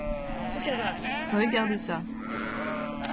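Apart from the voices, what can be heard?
flock of sheep bleating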